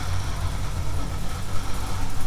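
A supercharged GBody engine idles on E85, a steady low rumble with a slightly uneven lope, close and continuous throughout.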